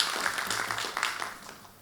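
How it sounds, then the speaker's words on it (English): Audience applause at a cryptography conference session, a short burst of clapping from a seated crowd that fades out within two seconds, moderately loud, with no talking over it. "Another round of applause for the management"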